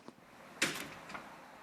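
A heavy steel door is eased shut, giving one soft, faint thud with a brief rattle, followed by quiet room tone and no voices.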